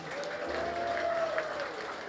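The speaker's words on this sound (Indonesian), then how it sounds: "kita beri tepuk tangan dulu Bapak Ibu" Villagers and officials at a community gathering in Tanjung Priok, Jakarta, give a round of applause, a steady, moderately loud patter of many hands with a faint tonal hum running beneath, no voices standing out.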